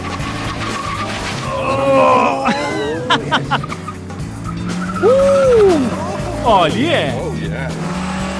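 A car climbs a hill in second gear with its engine droning under repeated tyre squeals and skids, loud and close, while people talk over it.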